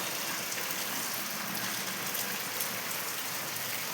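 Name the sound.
heavy rain falling in a village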